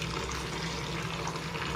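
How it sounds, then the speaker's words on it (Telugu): Water pours steadily into a jar of green chillies and salt before grinding, a continuous close rushing splash with no voices. "కొద్దిగా సాల్ట్ యాడ్ చేసి ఇది కొంచెం వాటర్ యాడ్ చేసుకొని గ్రైండ్ చేసుకోవడమే."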